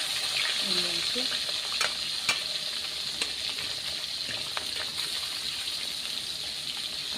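Pieces of rohu fish fry in hot oil, a continuous close crackle and sizzle with a few sharper pops, and a faint watery hiss behind it.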